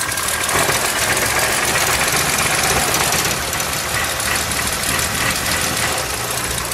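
A 1952 Nash Rambler Country Club Hardtop engine with single exhaust idles steadily and loudly, a continuous rumbling chug with no talking.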